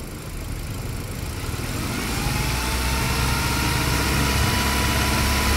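Hyundai Accent engine with an abnormal oil pump supply starts and runs steadily, a continuous low rumble that grows slightly louder after a couple of seconds, heard close and alone.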